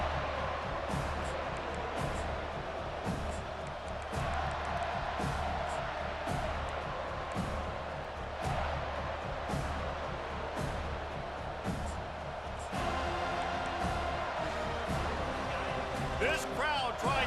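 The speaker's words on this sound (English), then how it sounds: "This crowd trying to show them what it's going to be like all day in this house." Stadium crowd in EA Sports College Football 25, a dense, loud roar that runs steadily the whole time with surges and scattered thumps, under a commentator's ongoing play-by-play talk.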